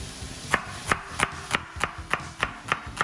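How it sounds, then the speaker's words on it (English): A knife chops onions on a cutting board in a steady rhythm of about nine crisp, close strikes over a few seconds, for a Korean beef dish. "by cutting a little bit of onions"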